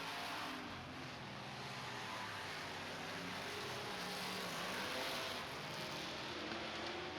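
Super truck engines drone steadily around an oval track at a 2013 heat race, a continuous loud mechanical roar with slight swells of throttle and no speech.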